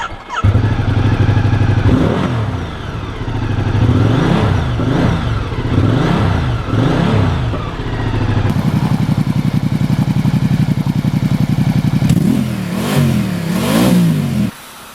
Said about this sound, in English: once you hit that starter button, you're going to hear this big 1200cc engine fire up